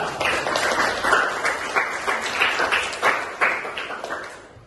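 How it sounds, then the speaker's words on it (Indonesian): Classroom applause for a student group after a presentation, a modest cluster of hands clapping in a quick uneven patter, close and fairly loud, fading out at the end without talk. "Jadi tepuk tangan untuk kelompok 2."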